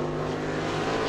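A race car lapping during World Series qualifying at New Smyrna, its engine a steady, loud droning roar throughout a brief stretch, with no talk over it.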